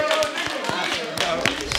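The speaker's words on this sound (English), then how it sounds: "Hey, y'all, clap it up, man." A small group of people clapping in a steady quick rhythm, moderately close, with voices talking over the claps.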